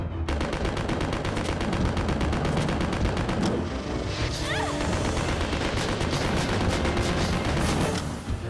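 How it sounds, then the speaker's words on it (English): A submachine gun in the video game Resident Evil Survivor 2: Code: Veronica fires in one long continuous automatic stream, loud and rapid, with no break for over eight seconds before stopping abruptly. "the submachine gun was not a good choice, unfortunately"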